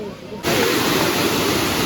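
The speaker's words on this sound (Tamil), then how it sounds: "இப்போ பார்த்தீங்கன்னா அருவி கிட்ட வந்துட்டோம்" Thiruparappu waterfall roars in as a loud, dense, steady rush of falling water that starts abruptly after a short quieter moment and then holds.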